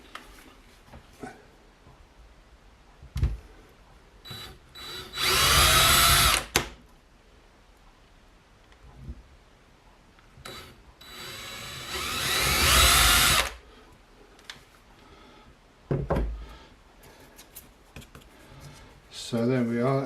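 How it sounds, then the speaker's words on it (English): A power drill whirs through a board for a DJI Flame Wheel F550 drone in two loud bursts of a few seconds each, with a person talking intermittently between them. "We'll drill 2 more."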